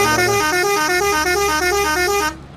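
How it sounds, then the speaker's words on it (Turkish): A vehicle horn in Farming Simulator 22 blares in a loud, close, sustained warbling two-tone honk lasting about two seconds before cutting off abruptly, during a potato harvest with a Massey Ferguson 8S tractor. "O nasıl bir korna?"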